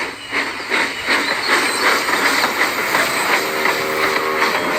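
A steam engine train chugs past with steady rhythmic puffs of steam, loud and close, the chuffs repeating evenly under a continuous hiss.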